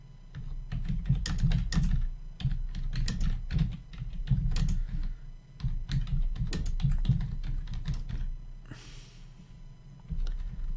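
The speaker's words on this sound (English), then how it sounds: "So if I type" Someone types in bursts on a computer keyboard, with close, crisp clicking keystrokes in uneven rhythm and brief pauses, while a person breathes and sighs softly nearby.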